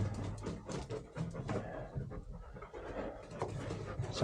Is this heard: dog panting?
yes